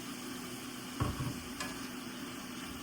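Diced medium onion hitting a pan of browned beef, giving a soft steady sizzle with a brief stirring clatter and a light tick, close and fairly quiet throughout.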